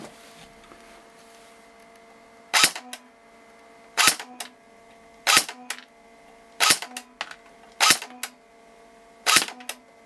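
An ASG SRC MP40 airsoft gun fires six single shots through a chronograph, each a sharp, close crack spaced roughly a second and a half apart, with a steady electronic hum between them.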